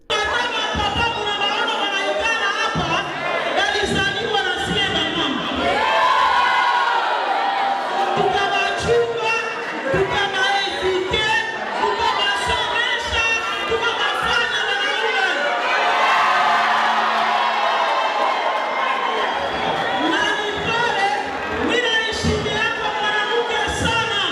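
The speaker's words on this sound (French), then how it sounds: "Occasion pour Aurélie Batumike de mettre en confiance cette foule qui désormais constituera sa base dans les quartiers Katoyi" A crowd at a political rally in the Katoyi neighbourhood murmurs and chatters continuously, with scattered louder cheers and shouts rising and falling throughout.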